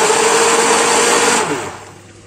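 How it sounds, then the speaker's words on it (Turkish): A kitchen blender whirs loudly and steadily, puréeing cooked meat with garlic and onion for şiveydiz, a Gaziantep yogurt dish, then winds down near the end. "hemen blenderımda çırpıyorum."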